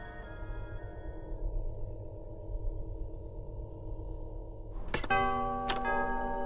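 A doorbell chime in LEGO Star Wars: The Skywalker Saga, two bright ringing tones near the end struck about half a second apart, following a quiet steady tonal background.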